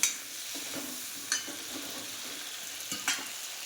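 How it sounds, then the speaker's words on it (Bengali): Potatoes and pointed gourd fry together in a pan with a continuous soft sizzle, broken by a few spatula scrapes and stirring knocks against the pan at intervals, with no talking. "আলু আর পটলটা আমি একবারেই ভেজে নেব"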